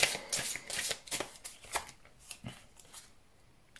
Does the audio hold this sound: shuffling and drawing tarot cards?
yes